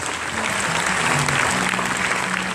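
A church congregation applauding the Lord during a French-language service, steady dense clapping filling the room throughout, loud and continuous.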